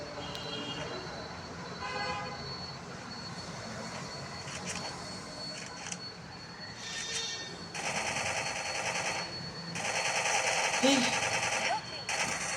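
Gunfire in the video game Counter-Strike, heard as short bursts of shots over a steady game background, getting louder and denser in the second half of a ranked match, with no speech.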